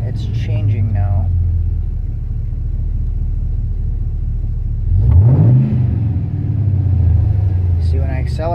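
An LQ4 V8 engine rumbles steadily at idle, then revs up under acceleration partway through and holds a louder, higher drone, with someone talking over it at the start and end.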